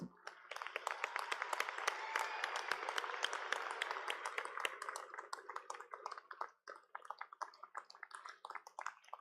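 Graduates at a community college nursing pinning ceremony giving a round of applause, a sustained crowd of clapping in a large hall that gradually thins to scattered individual claps, some faint speech under it.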